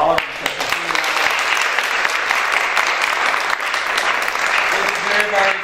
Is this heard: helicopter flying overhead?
no